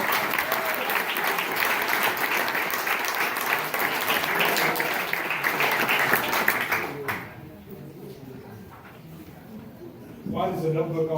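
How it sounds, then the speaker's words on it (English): An audience at a magic show claps after a trick, a loud, sustained round of applause for about seven seconds that fades out, followed by quieter voices talking nearby. "Give me a round of applause"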